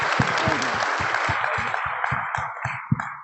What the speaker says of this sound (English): let's give these gentlemen some applause